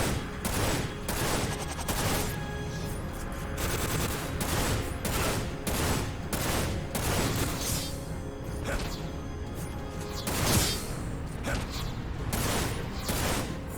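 A big rifle in Dirge of Cerberus: Final Fantasy VII fires in loud, sharp bursts at an uneven, rapid rhythm, mixed with mechanical clanks and creaks.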